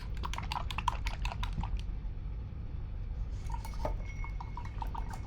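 An acrylic paintbrush is rinsed in a water jar, making a quick burst of light rattling taps against the glass, a pause, then softer clinks and sloshes, all faint and close.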